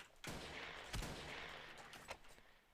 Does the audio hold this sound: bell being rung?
no